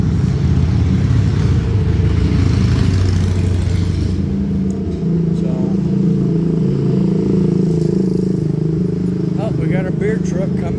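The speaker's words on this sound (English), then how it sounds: "We got a beer truck coming." A beer truck rolls past on a city street, its loud, close engine rumbling and clattering steadily without letup, with faint street sounds in the background.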